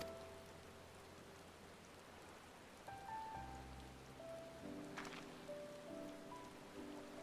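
Steady rain falls in the video game Final Fantasy XIV Dawntrail, a soft continuous hiss of drops on surfaces beneath gentle game music and tones, with no talking.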